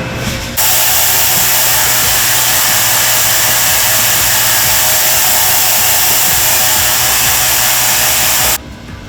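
An ultrasonic parts washer cleaning engine injector parts runs with a loud, steady, broadband hiss that starts abruptly and then stops near the end.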